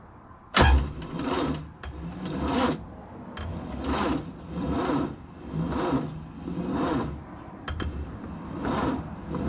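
A loud, rough Opel GT barn-find engine idling and revving in waves with an unmuffled, rattling roar, exhaust disconnected, after a sharp start-up burst.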